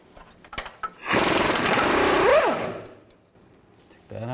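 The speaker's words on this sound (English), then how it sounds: "I'll take this bolt out right here, the same 21mm socket and 21mm wrench" A tool works loose a 21mm bolt on a 2000-2006 Chevy Tahoe during oil pan replacement, with a few light knocks and then a loud, close mechanical whir lasting about a second and a half before it fades.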